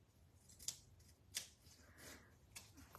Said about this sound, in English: let me find my dimensionals here and cut some